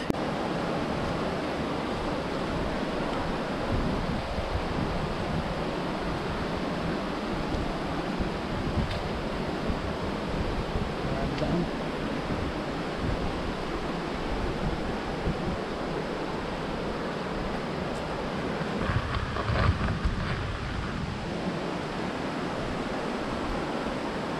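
Small cascades at Hulugan Falls in Luisiana, Laguna pour with a steady, dense roar of rushing water, loud and unbroken throughout, with no voices.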